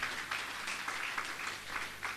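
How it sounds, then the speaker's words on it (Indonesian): Applause from a congregation during a Sunday church service, steady and moderately distant, a dense wash of clapping sustained throughout with no talk over it. "Berikan tepuk tanganmu"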